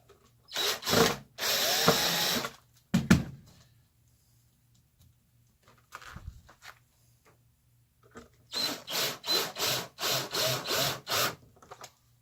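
Close-up power drill driving screws into wood: a few separate bursts, a quiet pause, then a quick rhythmic series of short whirring pulses.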